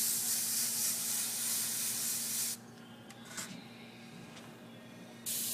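An airbrush sprays paint in a steady, close hiss that cuts out midway with a few soft bumps and then resumes.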